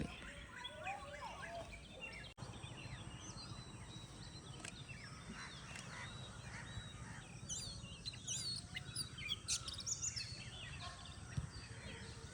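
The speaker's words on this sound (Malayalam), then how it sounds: "ബാക്ക്ഗ്രൗണ്ടിൽ ഒരുപാട് സൗണ്ട് കേൾക്കുന്നുണ്ടല്ലോ. അപ്പോൾ അതിൽ ഓരോ കിളികളുണ്ട്." Many birds chirp and call faintly in the countryside of Kakkur, Kozhikode district, Kerala, with overlapping tweets over a low steady background hum.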